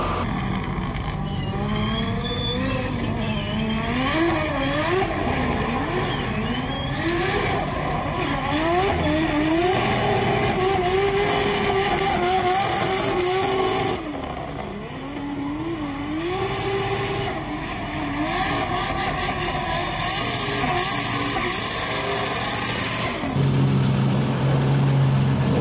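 A 900-horsepower drift car on a practice run at the 2023 D1 Grand Prix, its engine screaming loud and close with shifting revs and squealing tires, sustained almost without a break.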